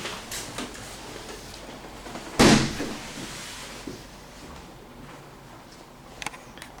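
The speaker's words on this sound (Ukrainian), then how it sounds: "Закрив двері чого?" A door swings shut with one sharp thud in a quiet office, standing alone against low room tone, with a few faint clicks and taps before and after.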